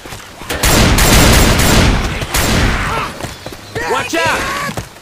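Gunfire shooting zombies in Left 4 Dead 2, a loud burst of rapid close shots followed by scattered single cracks, with voices talking over the end.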